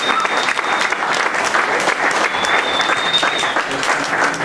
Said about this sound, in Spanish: Un aplauso para todos los músicos.